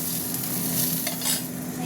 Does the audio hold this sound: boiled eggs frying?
yes